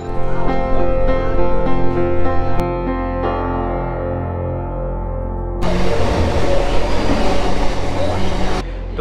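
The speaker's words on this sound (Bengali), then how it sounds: "মৌরিগ্রামের কিন্তু 2 নম্বর প্ল্যাটফর্মে ট্রেনটা ঢোকালো।" A local train on the Howrah–Digha route pulls into platform 2 at Mourigram station with a loud, sustained mechanical hum and whine, joined midway by a stretch of heavier rushing, rattling noise.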